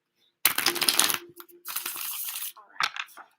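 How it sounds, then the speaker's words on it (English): A tarot card deck being shuffled in bursts of crisp, riffling card flutter with short pauses between them, close and clear. "I'm going to do one of these numbers and really shuffle it on in."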